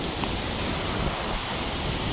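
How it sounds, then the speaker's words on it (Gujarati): Strong wind roars across Girnar mountain, a dense, constant rush of buffeting air hitting the microphone close up, loud and unbroken throughout. "તમે જોઈ શકો છો અહીંયા પવન તો જો"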